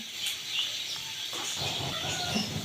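Pangas fish curry with garam masala simmers and bubbles in a pan, giving a steady close hiss with light crackling and small popping bubbles throughout, no voices.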